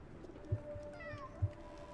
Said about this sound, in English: Oh, I heard a cat.